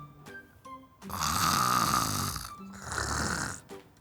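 Two long, loud snores, one after another, close up, each a rasping breath with a short pause between.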